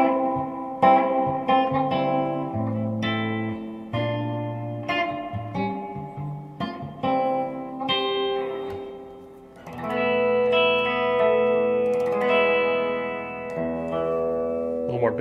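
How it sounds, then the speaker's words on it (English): Electric guitar notes and chords played through a tube amp with heavy spring reverb, lingering tails ringing out over about fifteen seconds. "I can't stand reverbs that are too subtle. This is a real reverb."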